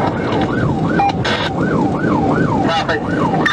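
During an Arkansas State Police pursuit, a police car siren wails in a loud, steady up-and-down cycle over road and engine noise, broken by a few short bursts of radio-like noise.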